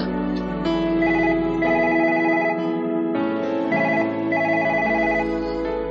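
A telephone rings as a sound effect, its electronic tone sounding in repeated bursts over a sustained musical bed, steady and fairly loud, with no voices.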